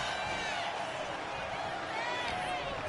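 Wrestling arena crowd in the WWE 2K25 video game, a continuous loud roar of cheering and shouting that fills the whole stretch without a break.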